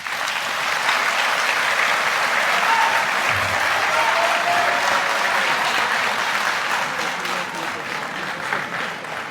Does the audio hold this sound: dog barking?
no